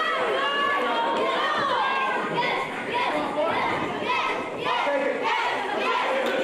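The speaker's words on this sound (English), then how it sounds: "This crowd is hot for Edge Stone right now." A wrestling crowd at a Texoma Pro show in Healdton, Oklahoma cheers loudly for Edge Stone, a dense wall of shouting and yelling voices that surges continuously with a brief dip midway.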